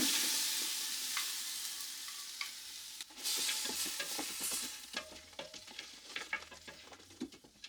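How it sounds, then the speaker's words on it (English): Onions, celery and carrots sauté in a soup pot, a steady close sizzle broken by repeated scraping stirs and clinks of the spoon against the pot, with a louder burst of stirring midway. "We're just going to cook the celery and the carrots with the onions for a few minutes just to thaw and saute those just a bit."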